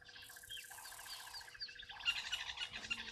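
Several agitated miner birds call in a steady, rapid, repetitive chatter, moderately close with faint insect buzz in the outdoor background.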